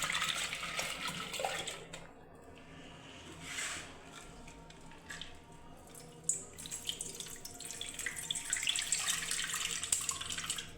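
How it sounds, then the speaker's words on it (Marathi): Toor dal is washed with water in a bowl, with close splashing and swishing of water, intermittent pouring and sloshing, moderately loud and without talk. "म्हणून मी व्यवस्थित एक दोन पाण्याने धुवायला घेते पुन्हा एकदा पाण्याने धुवून घेते"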